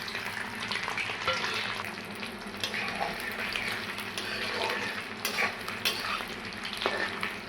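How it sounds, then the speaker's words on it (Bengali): Pieces of steamed egg fry in hot oil in a wok, giving a steady close sizzle with occasional stirring scrapes and utensil clinks throughout, no voices. "আমি এখন ডিম ভাপা ভেজে নেব।"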